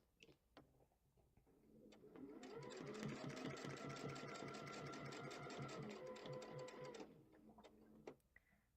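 A sewing machine stitches a log cabin quilt block in steady rapid bursts, running continuously for several seconds between short starts and stops, close and fairly loud with no talking.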